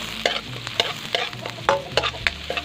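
Chopped onion and garlic sauté in a hot pan, a soft continuous sizzle punctuated by regular scraping strokes of a spatula stirring, close by and with no talking.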